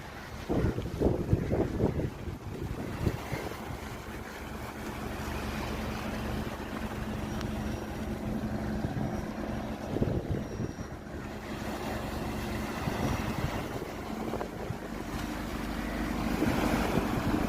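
A boat motors fast across the sea off Karaikal beach, a steady droning hum over broad wind buffeting the microphone and the wash of waves, holding close and loud for the whole stretch.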